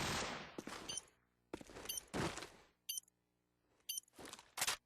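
Gunfire rattles in a competitive match of the video game Call of Duty 4, with short sharp bursts and single shots spaced apart by near-silent gaps, and clicky game effects between them.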